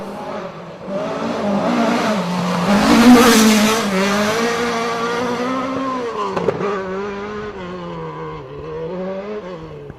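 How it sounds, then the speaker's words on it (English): A Ford Escort rally car engine revs hard and roars past on a rally special stage, rising and falling in pitch as it accelerates and shifts, loud and close throughout. "This sounds like an Escort, though."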